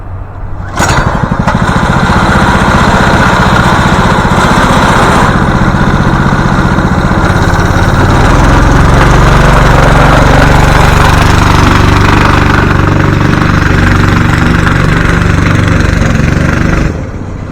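A small engine on an old school go-kart with its governor still on fires up and runs steadily through a ride, a loud, close, buzzing drone that rises in pitch partway through and drops off at the end.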